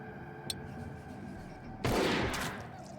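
An enemy pistolero fires in the video game Hard West 2: a brief crack is followed by a louder burst of gunfire lasting about half a second over quiet background ambience.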